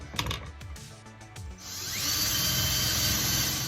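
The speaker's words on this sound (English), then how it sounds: "mark 2 spots right here that I can punch through with a drill bit" A power drill with a bit bores holes through a wooden block, starting with a few short bursts and clicks, then a steady high-pitched whine that holds on, close and fairly loud with no talking.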